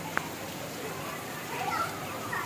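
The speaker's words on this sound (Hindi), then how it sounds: "बारिश बारिश देखें, ये देखें" Heavy rain pours down in a steady, dense hiss during a sudden downpour, with children's voices faintly audible beneath it.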